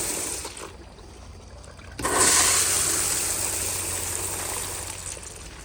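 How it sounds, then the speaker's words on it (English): A 2015 American Standard Allbrook urinal flushes with a sudden rush of water that starts sharply and stays loud and gushing, tapering slightly as it runs on close by. "Let me do another flush at this angle so y'all can see it overflow"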